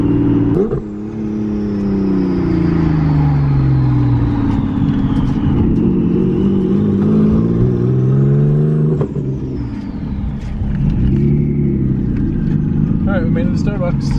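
A loud car engine revs and accelerates up close, pitch sweeping up and down through gear changes for the whole stretch, with people talking over the roar.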